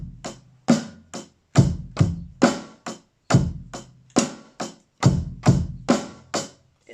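A basic rock beat on a drum kit, with kick and snare alternating in a steady pattern while hi-hat or cymbal hits ring through, played alone, close and loud for several bars.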